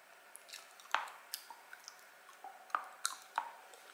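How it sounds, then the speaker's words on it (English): Faint, sharp jaw clicks and soft squishy snaps come at irregular intervals from very close, quiet and with no talking. "That's my jaw clicking."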